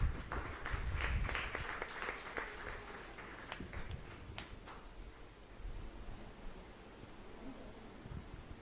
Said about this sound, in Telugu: ఒకసారి చప్పట్లు కొడదాం.